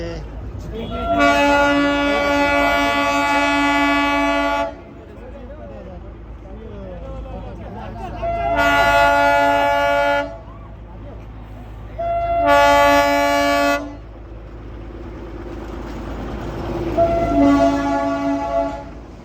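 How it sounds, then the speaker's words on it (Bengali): A toy train horn sounds in four long, loud blasts with pauses between, over a steady rumble of the small train rolling nearby at Batasia Loop, Darjeeling, with voices faintly underneath. "তো বন্ধুরা টয় ট্রেন আসছে"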